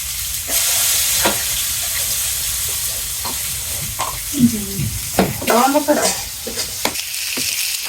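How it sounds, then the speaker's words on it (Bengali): Onions sizzle and fry in a hot pan, a constant close crackling hiss with stirring clatter, while a voice talks over it midway. "এখন পেঁয়াজ দিয়ে দিলাম পেঁয়াজ"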